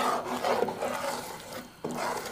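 A spoon scrapes and rubs through panjiri as jaggery syrup is worked in over low heat, producing rough rhythmic stirring strokes against the pan, close and fairly quiet, with one brief pause near the end.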